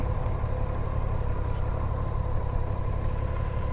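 A 2021 Honda Goldwing motorcycle engine and exhaust idle with a quiet, steady low rumble that holds level throughout, without revving or voices.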